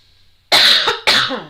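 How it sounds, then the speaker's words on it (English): Two harsh, loud coughs close by, one after another with a brief pause, over a quiet high-pitched background hum. "I'm really sorry about the coughing."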